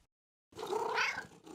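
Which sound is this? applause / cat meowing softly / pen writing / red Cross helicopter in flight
cat meowing softly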